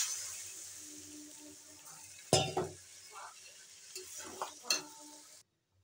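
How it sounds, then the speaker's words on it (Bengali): Water splashes into rice frying in a pot. It gives a sudden loud hissing burst, then short sizzling flare-ups that fade away. "জল অ্যাড করবেন।"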